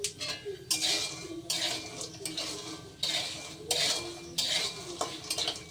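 Peanuts roasting in a pan are stirred in repeated scraping, rattling bursts, roughly one every second, close by and at moderate volume.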